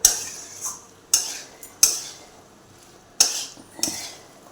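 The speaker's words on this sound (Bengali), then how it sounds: "একটু নেড়ে চেড়ে দেবো।" Sharp metal clinks of a spoon scraping and knocking against a pan while spiced peas for ghugni are stirred, five distinct strikes spaced irregularly, close and alone.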